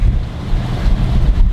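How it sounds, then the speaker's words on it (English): Strong coastal wind roars and buffets a nearby microphone in a continuous low rumble, gusting unevenly throughout. "What's up with this wind, man?"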